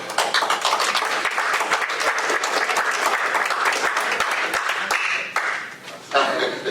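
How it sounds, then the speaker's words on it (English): Sustained applause from a council meeting audience fills the room, a dense steady patter of clapping with a few chuckles mixed in, dipping briefly near the end before swelling again. "I was expecting some rapturous applause for that"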